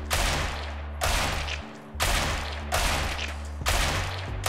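Gunfire in a shooting video game during aim practice against a bot, rapid full-auto bursts in four loud, evenly spaced volleys, each about a second long, with short gaps between.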